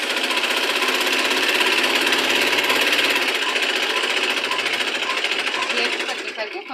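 An electric sewing machine stitches the side seam of a blouse, a steady loud rapid mechanical whir running continuously before slowing slightly at the end.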